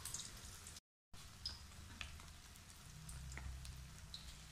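An egg frying in oil, a quiet steady sizzle with scattered crackles and pops, soft and continuous throughout with a brief cut near the start.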